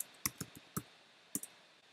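A few sharp, quiet clicks on a computer keyboard come in two short bursts, with a pause of near silence between them and no voices.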